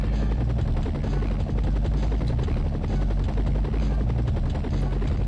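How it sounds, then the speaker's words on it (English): A helicopter in a 1990s computer game drones with a loud, continuous synthetic rotor buzz and a rapid pulsing chop, unbroken and without speech. "This helicopter is a bit weedy. It struggles to go forwards and ascend at the same time."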